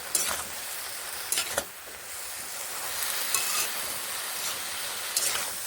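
Spinach cooked with mung dal, just salted, is stirred in a pan: occasional spatula scrapes rise over a continuous gentle sizzle and steamy hiss.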